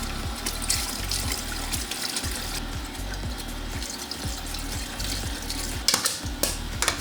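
Water pours into a Greenpan Frost slushie machine, a steady rushing splash over a churning, ratcheting mechanical rhythm that repeats about twice a second, close and fairly loud with no voices.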